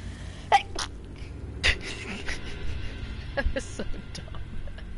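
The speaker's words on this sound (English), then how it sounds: "I have to sneeze." A single sharp sneeze bursts out near the mic early on, followed by a second similar burst a moment later, with soft background noise and scattered faint clicks.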